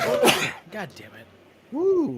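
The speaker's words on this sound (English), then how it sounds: "I hate my sneezes because that one sent shocks through my arms" A single sharp sneeze bursts out at the start from a person watching horror films, followed by a muttered curse and a drawn-out exclamation from the same voice.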